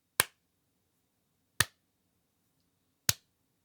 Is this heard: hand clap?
yes